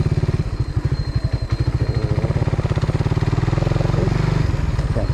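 A motorcycle built as a street bike but ridden as a trail bike, its engine running steadily and close with a rapid, even throbbing and some rattle throughout, no talk over it.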